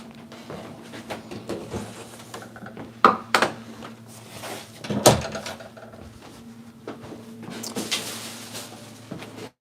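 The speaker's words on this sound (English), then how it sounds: "Let me close my door" A room door being shut in an upstairs home room, with scattered knocks and shuffling and a sharp thud near the middle, fairly close and moderately loud, no talking.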